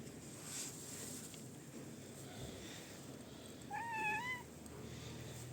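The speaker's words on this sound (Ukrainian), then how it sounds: "це вуличний албанський кіт, ну якої нереальної він краси" Albanian street cat in Tirana gives a single short meow partway through, mid-distance, over a steady background of outdoor murmur and low rumble.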